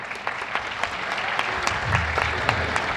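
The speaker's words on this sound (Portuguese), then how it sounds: "Uma salva de palmas." An audience claps for a union representative at a political analysis panel, a sustained mid-level round of applause with distinct hand claps and a low murmur underneath.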